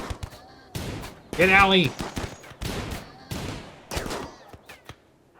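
Automated turrets fire in rapid bursts during a RimWorld raid, a string of sharp, clattering volleys across the battle, with a voice shouting over the loudest burst.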